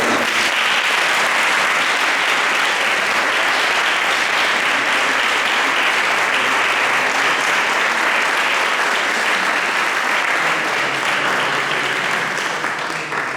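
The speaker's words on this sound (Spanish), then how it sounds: "Vamos a dar un aplauso al Señor." Sustained audience applause at a church talk, dense and steady clapping from a large crowd that carries on without a break for over thirteen seconds.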